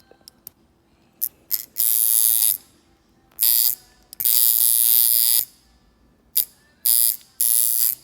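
A coil tattoo machine being tuned buzzes loudly in repeated bursts of varying length, starting and stopping several times with quiet gaps between runs.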